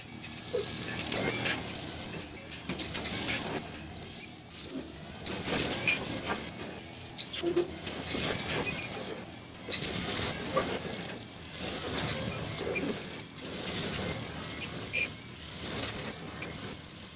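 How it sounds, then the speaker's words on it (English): A skid steer mowing a patch of field for a food plot: a steady broadband engine drone with mechanical rattling that rises and falls slightly throughout, continuous and fairly close. "So we're gonna mow it with the skid steer, then we're gonna till it up."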